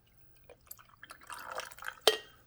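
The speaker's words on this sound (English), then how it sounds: "So now we're going to pour this in the back." Water poured into the rear reservoir of a Farberware 5-cup programmable coffee maker, with soft trickles and drips building into a splashing pour, ending in a sharp clink of glass or plastic, close and fairly quiet.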